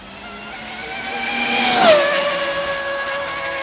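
An Arrma Limitless RC car on a high-speed run whines loudly as it approaches, with a brief squealing sweep as a tyre fails mid-pass before the high motor tone settles and fades slightly.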